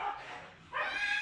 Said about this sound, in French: ils vont se battre les chiens